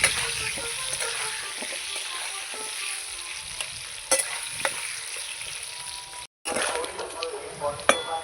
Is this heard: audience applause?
no